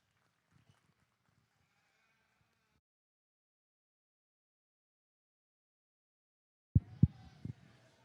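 A sheep at a Rodeo Austin livestock show lets out a loud, close bleat in a couple of quick pulses near the end, after a long stretch of near silence broken only by faint, distant sounds.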